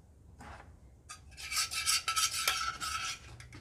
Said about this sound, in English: now we're going to add more chocolate on top of the nuts to seal in the nuts and the caramel